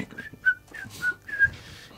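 Someone whistles a short tune close to the microphone, with a few clear sliding notes rising and falling over quiet background noise.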